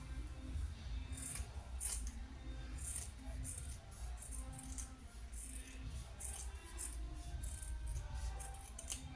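Scissors snip steadily through a craft piece, the body of a Santa figure for a Christmas garland, giving a quick run of crisp, repeated cuts close by over a low background hum.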